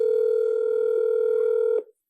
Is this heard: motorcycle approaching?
no